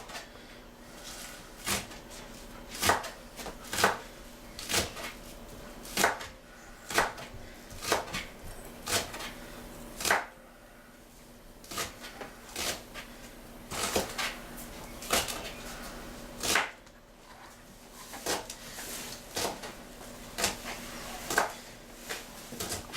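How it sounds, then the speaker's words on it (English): Green onions are chopped with a knife on a board in sharp, quiet strokes. Runs of several quick chops come in bursts separated by short pauses. "First, I'm going to chop my onions up, my green onions."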